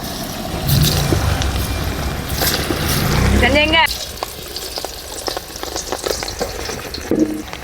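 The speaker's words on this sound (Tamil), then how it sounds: "இப்போ பொரித்து எடுத்துருவோம்" Cornflour-coated cauliflower deep-frying in hot oil, a loud close bubbling hiss throughout, rising to a burst of crackling midway before settling into a steady softer fry.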